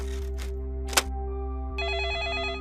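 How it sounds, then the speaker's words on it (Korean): Telephone ringing with an incoming call at a police station in Luoyang, Henan, China. The bell sounds in steady trilling bursts, fairly loud and close over a constant low hum, with no one speaking. "2011년 9월 1일 중국 허난성 러양시 경찰서에 걸려온 한 젊은 여성의 다급한 구조 전화"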